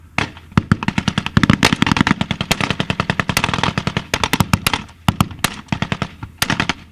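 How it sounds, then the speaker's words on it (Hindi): Rapid bursts of machine-gun fire crackle loud and close at a Syrian army post during fighting with ISIS, volleys of sharp shots tumbling over each other almost without pause, with heavier booms mixed in. "सिर्फ यहाँ बंदूकें बोल रही हैं, तोप गरज रही हैं"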